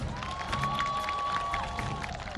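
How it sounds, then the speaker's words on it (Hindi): A crowd in Indore cheers and claps at a distance in a steady, muffled wash, with a thin whistle sounding over it. "तालियों के साथ इंदौर की जनता का भव्य स्वागत"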